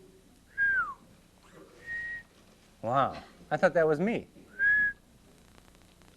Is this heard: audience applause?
no